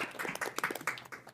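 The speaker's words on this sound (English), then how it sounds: "Let's give them a round of applause." A short, soft burst of applause for award-winning students at a student advisory council meeting, with dense, rapid clapping from a modest group that fades away within about a second.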